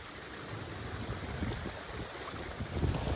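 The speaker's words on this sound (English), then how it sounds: "A very nice green waterfall coming down with that direct runoff there." Green moss-covered waterfall running down over cemented rocks on the shore, a steady broad rush of falling water with gusty wind buffeting the microphone, no voices.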